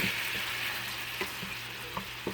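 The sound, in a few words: shrimp cooking in whiskey in a stainless steel pan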